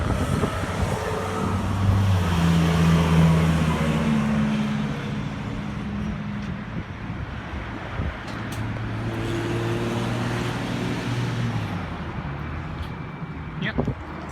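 Transperth battery electric bus idling at Galleria Bus Station on a quiet night, with a low steady hum under roadway noise and nearby talk throughout.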